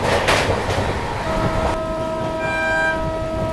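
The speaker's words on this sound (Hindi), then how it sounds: "ये देख लो 130 किलोमीटर प्रति घंटे की रफ्तार से अपनी बिहार संपर्क क्रांति चल रही है" The Bihar Sampark Kranti Express runs at 130 km/h between New Delhi and Darbhanga with a loud continuous rushing roar of wheels and wind. A sustained horn tone sounds through the second half.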